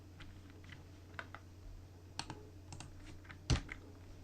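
Password being typed on a computer keyboard during a software install, a sparse run of soft individual key clicks ending in one sharper, louder keystroke, close and quiet over a low steady hum.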